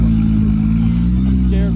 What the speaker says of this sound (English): You better rev it.